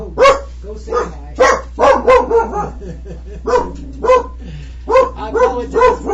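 An excitable dog barks loudly and close by in repeated bursts, with a few yips and whimpers mixed in and short pauses between volleys.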